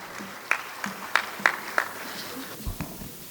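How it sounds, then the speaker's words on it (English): A handful of separate, sharp handclaps ring out one after another from an audience at a chartered accountants' taxes and compliance event, spaced unevenly and fading off rather than swelling into sustained applause. "Can I have a huge round of applause for CA Yuga?"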